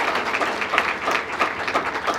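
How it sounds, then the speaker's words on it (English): An audience at a community keynote breakfast event applauds steadily in a dense, even patter of many hands clapping, moderately loud, with a faint voice underneath. "Another big round of applause for Rodriguez Construction."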